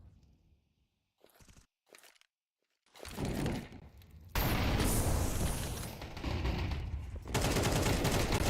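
Rifle gunfire in Counter-Strike during a competitive match: a few sparse early shots, then loud, dense sustained bursts of automatic fire with booming impacts filling the second half.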